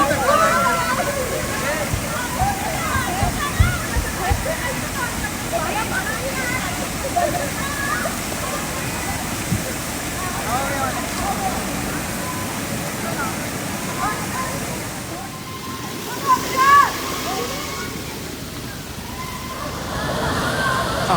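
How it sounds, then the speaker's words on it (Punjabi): Waves sloshing and splashing steadily in a water park wave pool at Suncity, a continuous loud wash of water with people talking and shouting throughout. "ਪਾਣੀ ਆਉਂਦੇ ਹੈ ਛੱਲਾਂ ਵੱਜਦੀਆਂ ਸੀਗਾ ਜਿਵੇਂ ਅਸੀਂ ਬੀਚ ਤੇ ਬੈਠੇ ਹੁੰਦੇ ਆ"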